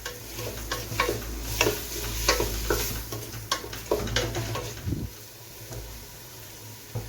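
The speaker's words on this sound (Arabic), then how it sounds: "غادي نحركهم مزيان" A spoon stirs chicken, onion and spices in a pot, giving repeated scraping clinks over a steady sizzle of frying, then the stirring stops and a softer sizzle continues alone.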